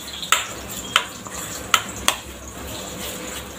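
Dry ingredients for tomato puri dough, including cumin and ajwain (carom seeds), being mixed in a bowl: four sharp scraping clinks of a spoon against the vessel, spaced unevenly over quiet background hiss, with no talking.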